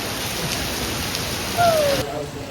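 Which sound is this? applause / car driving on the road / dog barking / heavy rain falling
heavy rain falling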